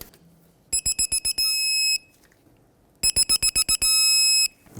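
A torque wrench reaching 113 foot-pounds on a strut bracket nut of a 2003-2008 Toyota Corolla gives loud electronic beeps, a quick run of short pips then a sustained tone, and the pattern repeats twice.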